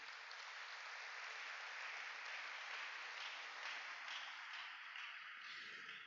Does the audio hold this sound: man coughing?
no